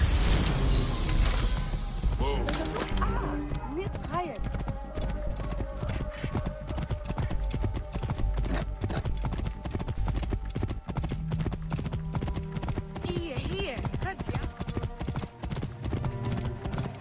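Hooves clip-clop in a steady, rapid rhythm from a horse in a historical strategy video game set in 48 BCE, loud and continuous over game music and effects.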